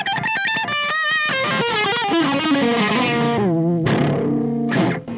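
A Schecter Sun Valley Super Shredder FR electric guitar played through its bridge pickup with heavy distortion: a fast run of shredded notes and chords, loud and close, ending in a few short stabs. No one speaks.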